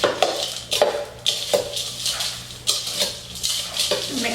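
A butter crust for butterscotch pie is mixed in a glass pie plate, giving repeated close scraping and clinking of a utensil against glass in an irregular rhythm, with no talking.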